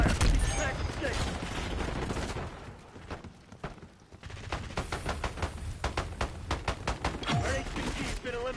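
Dense video game gunfire in a firefight over a high-value target, rapid bursts of automatic shots crackling almost continuously under a dense mix of effects and radio-style voice callouts.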